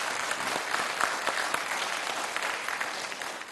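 A French televised debate's studio audience claps steadily throughout, a dense, fairly quiet patter of many hands with no talk over it.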